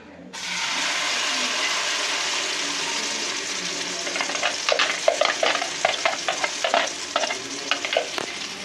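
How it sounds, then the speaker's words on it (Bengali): A spiced egg mixture hits hot oil with a sudden loud, broad sizzle that holds steady, then turns into rapid crackling pops and scraping stirs in the second half, close and continuous, with no voices. "দেখো তেলটা আমার গরম হয়ে গেছে, এবারে আমি মশলার ডিমটা দিয়ে দেবো।"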